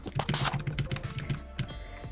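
Computer keyboard keys pressed in a quick, fairly even run of about a dozen soft, close taps, quiet and clear with no talking.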